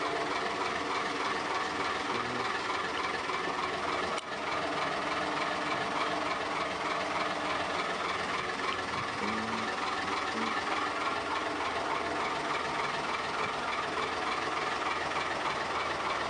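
A steady, droning engine rumble from a 22-metre Dutch Luxemotor barge runs unbroken from start to finish, loud and close, with no voices over it.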